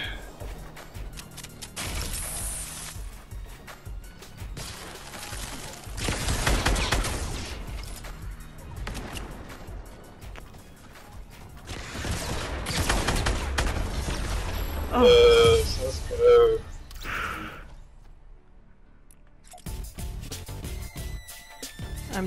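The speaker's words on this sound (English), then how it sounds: "You scared me with the grenade launcher." Grenade launcher fire in Fortnite Battle Royale lands as repeated booming blasts and thuds spread across the stretch, mixed with game effects and some talking, with a louder cluster toward the end before a quieter gap.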